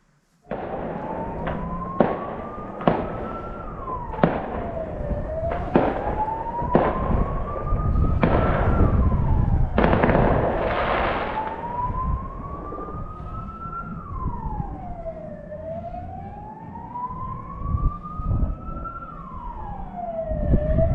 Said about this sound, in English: all that noise and the music and the sirens is the cavalcade of the Three Kings